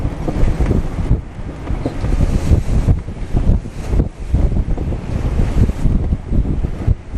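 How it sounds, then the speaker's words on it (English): Strong gusty wind buffets the microphone aboard a boat at sea, with surging water and wave wash beneath. The roar is loud and continuous, rising and falling in gusts, with no talking. "Wind's gonna go down."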